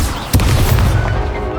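The Incendio fire spell bursts out in the video game Hogwarts Legacy, a single loud thumping boom followed by a rushing, crackling flare that lingers briefly.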